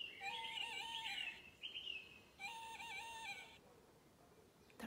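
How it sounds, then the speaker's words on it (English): A tawny owl calling, two drawn-out hooting phrases separated by a short pause, heard faint and clear against a quiet background. "A tawny owl."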